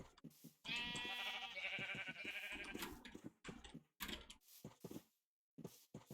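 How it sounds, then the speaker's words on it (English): Several loud Minecraft sheep bleats ring out in quick succession on a sheep farm, close and alone, with brief quiet gaps and some soft clicking between. "This is a good supply of sheep."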